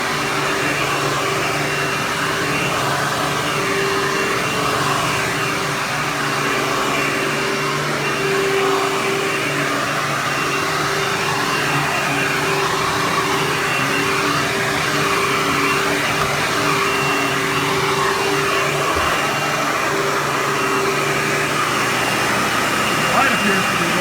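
Bagless Hoover Windtunnel upright vacuum cleaner running continuously after a tune-up, a steady close whine and airflow roar with no change in pitch throughout.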